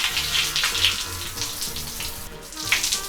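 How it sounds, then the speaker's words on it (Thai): Shower water runs steadily in a homestay bathroom, a continuous even splashing and hiss that stays close and fairly loud for the whole stretch, with no voices. "โอเคมูขออาบน้ำต่อก่อน"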